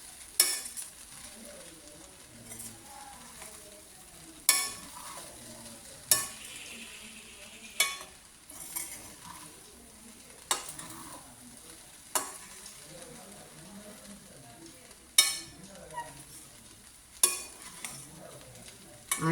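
Chana rice with chilli flakes is stirred in a pan over low heat: soft continuous sizzling with a spoon scraping the pan in regular strokes about every two to three seconds, quiet and close, with no voices.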